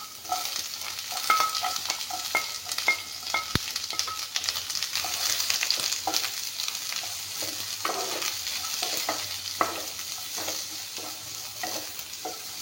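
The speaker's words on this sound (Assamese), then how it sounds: "এতিয়া ৰিফাইন আছেয়ে, পিঁয়াজ নহৰুখিনি ভাজি ল'ম।" Onions and garlic frying in refined oil in a pan, a steady close sizzle broken by repeated scraping stirs of a spatula at an uneven rhythm, with no talking.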